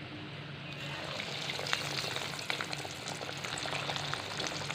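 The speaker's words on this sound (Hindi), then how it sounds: "अब हम इसे फ्राई करेंगे" Chicken cheese balls deep-fry in oil over a medium-low flame, giving a continuous soft bubbling sizzle with fine crackles, moderately quiet and even throughout.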